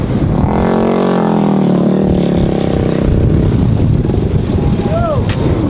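Yamaha YFZ 450 ATV engine revving hard in second gear for a ramp jump, a close, loud rising roar that fades into wind buffeting and outdoor rumble, with a voice speaking over it.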